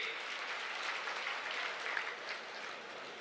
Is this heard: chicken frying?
no